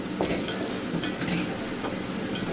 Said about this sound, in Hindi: इसके अंदर हम टमाटर ऐड कर देंगे, फिर फ्राई होने देंगे।